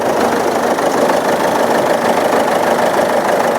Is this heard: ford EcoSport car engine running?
yes